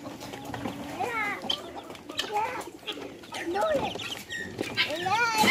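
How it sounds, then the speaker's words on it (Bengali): Farm chickens feed inside a rabbit hutch, clucking and chattering in short repeated calls, close and fairly loud, with a voice talking over them. "আমার মুরগিগুলো এখন খাচ্ছে খরগোশের ঘরে"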